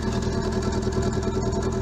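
Renault Clio 1.4-litre carburetted Energy petrol engine idling on E85 after a cold start, a steady low rumble with an uneven, shaky pulse and a trembling exhaust, close and continuous throughout.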